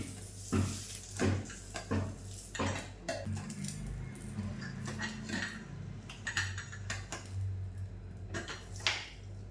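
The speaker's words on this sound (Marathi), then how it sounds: "हो फायनली झाकण बसलेलं आहे" Metal clatter of a new pressure cooker lid being fitted onto the cooker, with several sharp clinks early on, then scraping and knocking as it settles into place.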